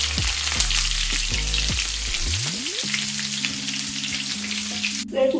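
Shallots, garlic and curry leaves fry in oil over low heat for paal kappa. A dense, close crackling sizzle runs throughout, with a few low clunks and a short steady tone near the end, and no talking.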